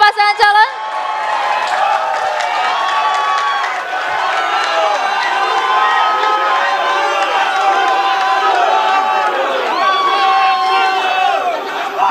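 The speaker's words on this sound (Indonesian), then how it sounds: "Kita berikan aplaus yang meriah untuk seluruh pasangan calon" Debate audience for the Sorong city mayoral election applauds all the candidate pairs, a loud, sustained wave of clapping and cheering with whoops and crowd voices over the full stretch.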